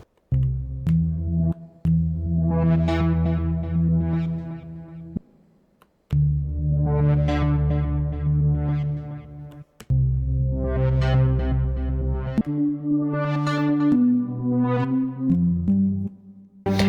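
Synthesizer swell patches made for a riddim track, sampled and locked to tempo: sustained, rising chord-like tones in three or four long phrases with brief gaps between them, loud and alone with no talk.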